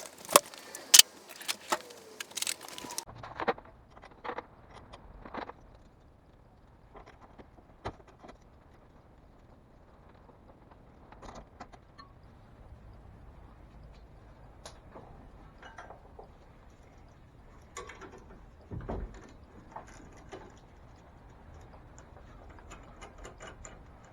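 Ratcheting wrench clicks and metal tool clatter as bolts come off the front strut of a Subaru WRX, with scattered close clicks and clanks over a quiet garage background, and a louder burst of tool noise at the start.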